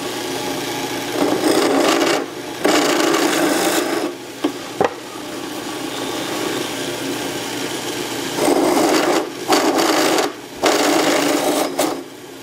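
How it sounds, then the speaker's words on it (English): A steady grinding, whirring drill bores dowel holes into wood in several long bursts separated by short pauses, close and loud. "So now I'm going to drill some holes to support some dowels."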